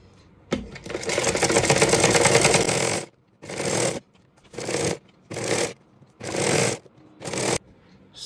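A sewing machine stitching a corset belt, one long whirring run of rapid needle strokes followed by five short bursts separated by pauses, close and loud.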